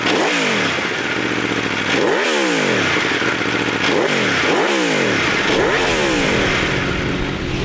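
A 2016 Aprilia Tuono V4 1100 Factory motorcycle on its stock exhaust is revved repeatedly, its V4 engine rising and falling in about five loud, close throttle blips with a rowdy, raspy tone.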